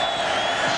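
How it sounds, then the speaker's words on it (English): A college football stadium crowd, Missouri at Nebraska, gives off a steady, broad roar of distant voices and noise during a goal-line play, with no single voice standing out. "The crowd half-heartedly trying to make it a little more difficult here for Chase Daniel."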